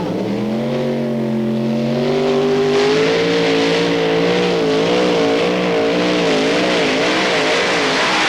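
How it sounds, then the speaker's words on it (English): A tractor pulling competition engine roars loudly and continuously, rising in pitch as the tractor with faster-turning wheels makes a full pull at a 1996 European event in Hörby, Sweden, with no talk over it. "this is a powerful pull from Fox from Denmark and our first full pull of the competition"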